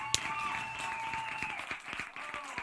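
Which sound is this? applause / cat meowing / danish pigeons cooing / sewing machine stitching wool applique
applause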